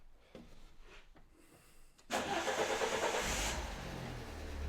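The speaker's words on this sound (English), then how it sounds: "let's crank her and see if she comes back again" A 2010 Fiat Punto Evo 1.4 with a brake booster pressure sensor circuit fault cranks briefly with a few faint clicks, then fires and settles into a steady idle, close and alone.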